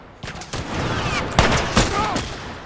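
Rapid gunfire from The Last of Us Remastered crackles in a dense, loud volley of overlapping shots, with sharper reports near the middle and end amid a noisy, chaotic firefight.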